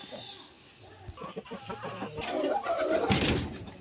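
Aseel hens clucking and murmuring nearby in a breeding cage, a low broken chatter of short calls that grows busier and louder toward the end, as a hen nears laying.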